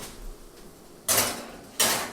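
An oven door handles a batch of keto lemon muffins going in to bake: two sharp clattering bangs about a second apart, close and loud, over a quiet kitchen.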